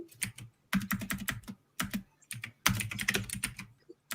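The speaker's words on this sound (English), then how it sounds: "I can hear you typing" Fast typing on a computer keyboard, close and crisp, coming in bursts of rapid key clicks separated by short pauses, with no voices.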